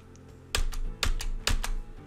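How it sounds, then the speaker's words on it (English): The Enter key on a computer keyboard is pressed three times in an even rhythm, each sharp, close click followed by a softer release tap, over a quiet background. "Start by pressing the Enter key on your keyboard about 3 times."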